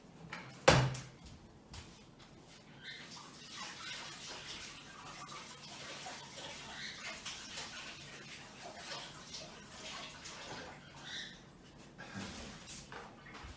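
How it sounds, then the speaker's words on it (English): Hands being washed under a running tap after working with modelling chocolate give a long, soft wash of water, with a sharp knock near the start and faint clatter throughout. "So I'll switch these out and get my hands washed"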